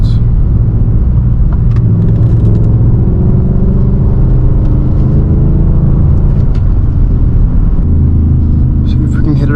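A Dodge Charger RT engine pulls hard after a downshift, a loud, steady low rumble that fills the whole stretch with car-interior road noise, while people talk over it.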